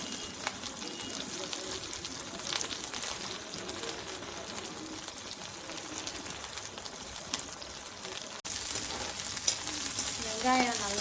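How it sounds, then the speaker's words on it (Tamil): Onion and garlic sautéing in a pan for a karunai kilangu (elephant foot yam) kuzhambu, a steady close sizzle and crackle with occasional stirring scrapes and faint voices in the background. "வெங்காயம் நல்லா வதங்கட்டும்"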